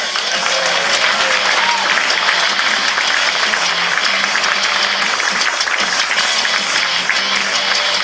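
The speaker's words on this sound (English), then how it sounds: "Well, ladies and gentlemen, keep clapping for Jeff the Fun Dude." A comedy club audience at a midnight show claps steadily and loudly, a thick, even wash of applause that continues without a break, with little voice audible over it.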